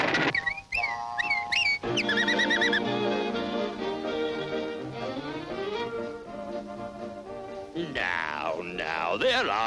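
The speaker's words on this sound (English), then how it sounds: "Just when do you see these birds? There's one now, Doc." Cartoon magpie calls from a Mighty Mouse short: warbling, squawky bird cries rise over a busy orchestral score, loud and close, with bursts of chattering tones in the middle and at the end.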